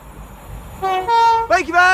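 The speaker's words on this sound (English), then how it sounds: "it looks to be a class 390 Pendolino going from Euston to not sure where" A Class 390 Pendolino train at Milton Keynes Central on the West Coast Main Line sounds its horn, a loud, close two-tone blast rising over a low rumble, with a voice briefly overlapping.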